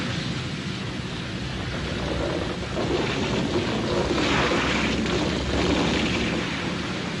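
Water sprays hard to douse a fire beside a British railway, a loud continuous gushing rush with a low rumble, steady throughout and heard alone.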